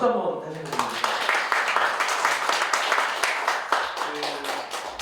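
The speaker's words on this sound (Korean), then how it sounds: "박수 한번 다시 해주세요" Applause from a congregation at a church founding service in a hall, a dense wash of clapping sustained for several seconds with some voices mixed in.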